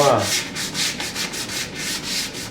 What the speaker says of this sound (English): don't want to sand through, but you want to take all the shine off